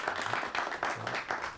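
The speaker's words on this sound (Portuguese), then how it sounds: "Eu queria os aplausos para uma galera super bacana" Studio audience applause on a television program, a short burst of clapping that swells and fades in uneven waves at moderate level.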